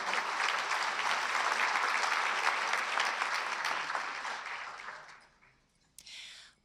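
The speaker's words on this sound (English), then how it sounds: "So again, another big round of applause for that team." An audience at a Hometown Heroes awards event bursts into a long round of applause that gradually fades out, followed by a brief faint rustle.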